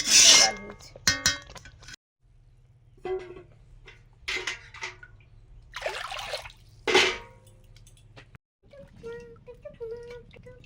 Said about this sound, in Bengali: আর পরিমাণ মতো একটু জল দিয়ে দেবো